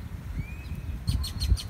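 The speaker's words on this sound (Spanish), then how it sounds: "¿qué hace ese pájaro?" Outdoors among trees, a bird gives a thin rising whistle, then four quick bright chirps in a row, close and clear over low rumbling background noise, with no one talking.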